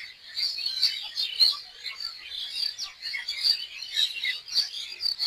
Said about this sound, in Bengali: লক্ষ লক্ষ পাখি